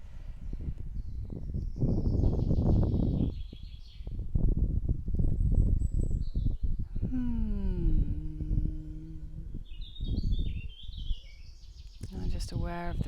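Outdoor birdsong in a light breeze: scattered chirps and whistled phrases rise and fall over soft rustling and low wind noise, with nearby movement sounds in between.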